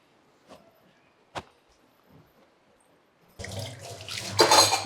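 In a home kitchen, dishes are washed under a running tap. Faint clinks and taps sound over near silence, then a steady gush of water suddenly starts and continues at moderate loudness.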